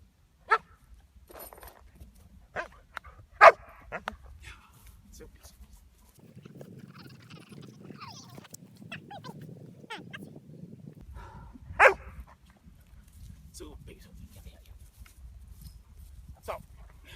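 A dog gives a few single sharp barks, spaced several seconds apart, during backchaining training with a sausage reward, heard over quiet room noise with a person talking softly in between.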